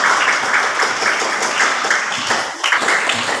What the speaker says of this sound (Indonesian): Kasih tepuk tangan dulu Asti ya.